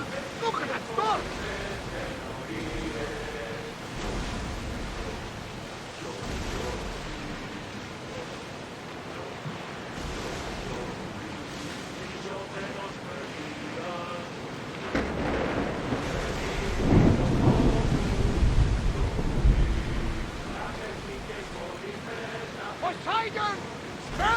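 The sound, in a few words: storm with thunder and rain at sea, video game Assassin's Creed Odyssey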